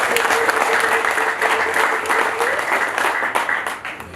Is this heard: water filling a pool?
no